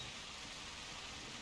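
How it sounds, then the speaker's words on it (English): Steady rain in theHunter Classic hunting game, a soft, continuous hiss with no breaks and no voices over it. "It just happened to be raining"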